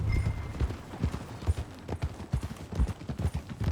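Horse hooves clip-clopping on the ground in the Red Dead Redemption 2 video game, a rhythmic series of close, muffled thuds at a walking pace, with a faint whinny-like tone briefly at the start.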